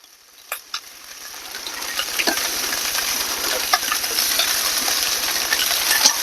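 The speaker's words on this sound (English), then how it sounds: "But I'm just putting the spam down on the pan right now." Spam slices start browning in a big frying pan, a steady sizzle building quickly and then holding loud and close, dotted with small pops and crackles.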